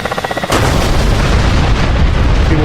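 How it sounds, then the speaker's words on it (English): Ka-50 helicopter cannon firing in DCS World: a quick rhythmic pulsing hum gives way to a sudden loud sustained burst of gunfire that roars on to the end. "cannon does the job."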